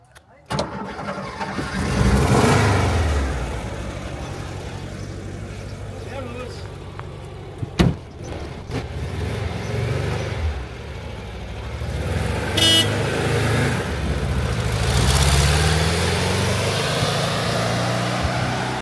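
An original military patrol car from a classic vehicle gathering starts and idles, a low rumbling engine with surges and a sharp click, running beneath nearby talk and crowd noise.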